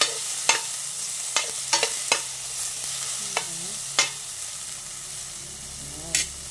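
A spoon stirs lemongrass through a sizzling pot of ginataang bagoong and squash, with sharp scrapes and clinks at irregular intervals over a soft, constant frying hiss.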